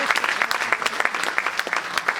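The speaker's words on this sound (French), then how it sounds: "On peut l'applaudir très fort." Audience at a magic show applauds steadily, a dense patter of many hands clapping at moderate volume, brief and unbroken.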